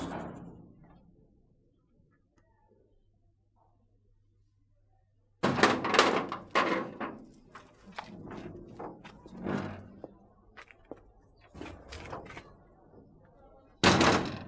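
A door in a home is opened with a sharp knock-like thump, followed by several more knocks and clatters as people speak in French nearby.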